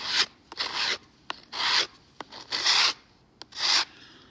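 Rhythmic strokes of wax being scraped and spread across a watercolor painting, five or six close, dry rubbing passes with short pauses and small taps between them.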